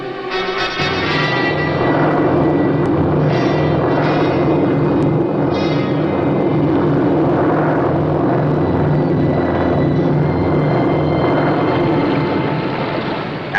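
A steady, loud propeller-aircraft drone of a patrol plane fills the whole stretch, a deep continuous engine hum with a faint rise and fall as the plane passes overhead.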